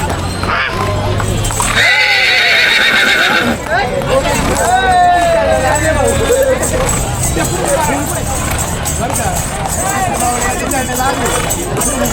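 Horses neigh and whinny amid a noisy outdoor crowd of pilgrims at a palanquin procession, with hooves clopping intermittently beneath the babble of voices.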